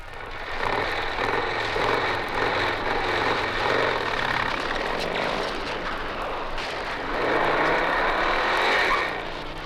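Motorcycle engines of police officers in pursuit during a chase, a loud, continuous engine roar that holds steady for the whole stretch and swells slightly near the end.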